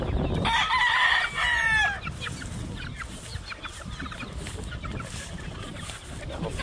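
A rooster crows loudly and close outdoors on a Hawaii farm, followed by scattered hens clucking and chicks cheeping around the yard.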